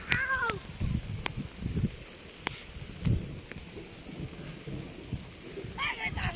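Steady rain falls over an outdoor garden in Nawabganj, Dhaka, a soft broadband patter running throughout with a few sharp knocks and brief cat-like cries near the start and end.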